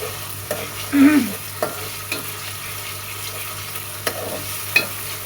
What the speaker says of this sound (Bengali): একটু কড়া করেই ভাজবো আর একটু ভাজতে হবে